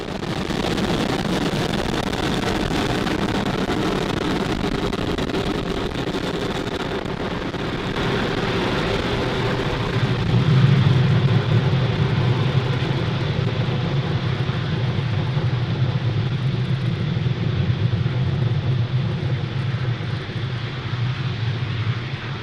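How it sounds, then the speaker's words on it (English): A SpaceX Falcon 9 rocket climbs after liftoff on a Starlink launch, a steady, loud, distant broadband roar that rumbles on without a break and swells slightly partway through. "Falcon 9 has successfully lifted off from Pad"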